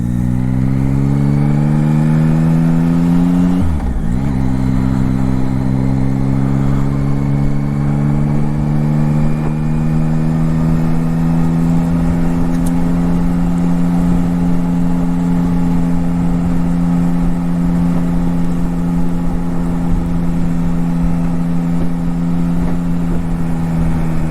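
Yamaha Tracer GT9+ motorcycle engine held in second gear on a short hill climb, a loud, steady droning tone that rises briefly early on and then holds almost constant, close and continuous with no talking.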